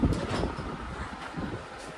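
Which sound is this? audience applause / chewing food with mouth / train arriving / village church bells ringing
train arriving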